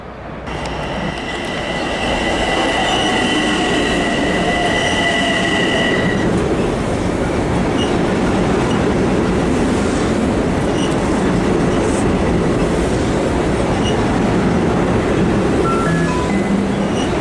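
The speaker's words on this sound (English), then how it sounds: "The 501 train to Massapequa is now arriving on track 2." A Long Island Rail Road commuter train to Massapequa rolls into a station, with a loud rumbling roar, high wheel squeal early on, and clattering rail noise as it passes close by.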